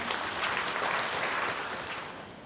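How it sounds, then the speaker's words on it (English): A conference audience claps for itself at the CaSPA Conference 2017 in Kenya, a moderate, slightly distant patter of many hands lasting a couple of seconds and fading toward the end. "Can we clap for ourselves?"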